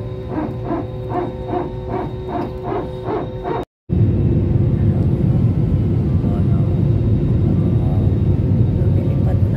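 An airplane climbing after takeoff from Terminal 1 gives a steady, loud, droning rumble. A brief dropout in the middle breaks it, then the roar continues unbroken.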